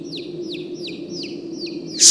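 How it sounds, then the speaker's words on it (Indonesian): Baby chicks peep on a mountain: a steady run of high, thin peeps repeating about every quarter second, heard from a distance over a low ambient hum. "Suara anak ayam itu terdengar cukup jelas dari kejauhan"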